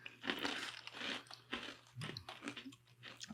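Unicorn poop candy being bitten and chewed up close, a series of sharp crunches in uneven bursts, each followed by softer grinding, with no talk over it.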